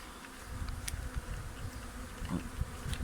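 A honeybee swarm streaming into a hive: a dense, steady buzzing hum of many bees nearby, with individual bees zipping close past now and then.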